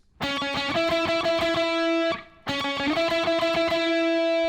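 Distorted electric guitar picks fast triplets in a steady rhythm, pauses briefly with a held note, then resumes the same pattern.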